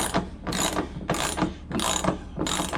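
A ratchet tightens a 3/4 bolt on a pool filter lid, sounding as five loud, even bursts of rapid pawl clicks, one roughly every half second, close up with no talk.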